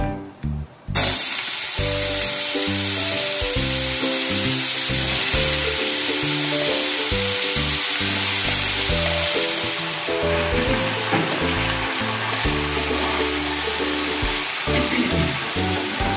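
Eggplant pieces frying in oil with black cumin, a strong continuous sizzle that starts abruptly and stays loud and close, under steady background music with no talk.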